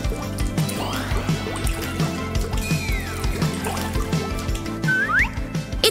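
Water running and splashing as a doll is rinsed, a steady trickling pour with small drips and sloshes, close and fairly loud with no talk.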